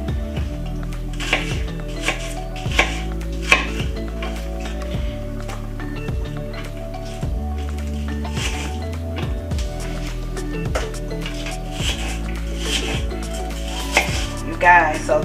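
Steady, rhythmic knife strikes chop onion and bell pepper into big chunks on a chopping board, each cut a sharp thud repeating about twice a second, close and clear, with soft background music underneath.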